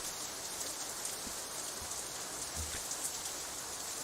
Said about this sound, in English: Rain is falling on my summer vacation